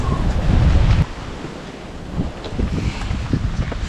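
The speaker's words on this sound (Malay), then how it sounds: "Memang berangin habis." Strong wind gusts buffet the microphone on a cold mountain summit at 2110 metres, a loud rumbling blast for the first second that drops to steadier, gusty roaring.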